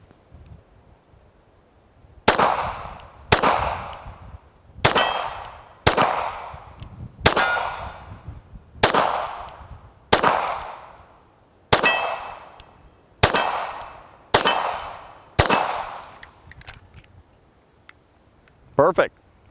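Ruger Security 9 full-size 9mm pistol firing Ventura 124 grain hollow points: eleven loud, sharp shots at a steady, unhurried pace, each with a ringing decay, close and dominant over a quiet background.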